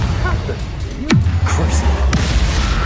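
A Confringo fire curse goes off in Hogwarts Legacy: a sharp whooshing cast sweeps down into a loud, sustained low boom and rumble, with a second crack following about a second later.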